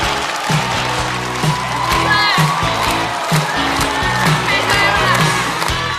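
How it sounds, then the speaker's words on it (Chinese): A live audience at a stand-up comedy show claps and cheers as a comedian is introduced, a dense, loud and sustained burst of applause with scattered whoops. "掌声欢迎何广智"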